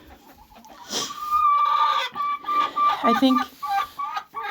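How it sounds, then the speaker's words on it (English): A hen clucks noisily inside a chicken coop in cold weather, a run of loud, close, repeated squawking clucks, with a person briefly speaking. "Are you going to lay an egg? Is that why you're so noisy?"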